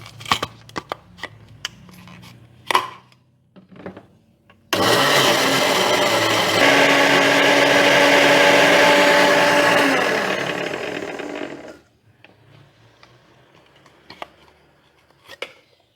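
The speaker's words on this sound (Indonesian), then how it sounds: "daging bandengnya akan saya blender sampai halus sehingga duri-durinya sudah nggak nampak" A blender whirs loudly and steadily for about seven seconds grinding milkfish meat, its motor pitch rising slightly as it grinds, between quieter kitchen clatter before and after.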